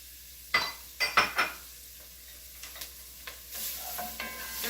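A spoon stirs sizzling garlic in a pan for Creole jambalaya, a burst of four quick scraping clinks followed by softer scrapes over a steady frying hiss that swells toward the end.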